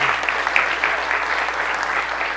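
An audience applauds volunteers as they stand, a dense, steady wash of clapping holding at an even level from start to finish with no voices over it.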